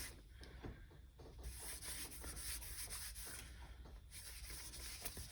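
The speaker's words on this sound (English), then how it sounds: "I'm just taking some of my matte medium and I'm just rubbing it in." Matte medium is rubbed by hand onto a paper page in a journal, a soft, continuous close scratching and brushing texture with faint swishing strokes and no talking.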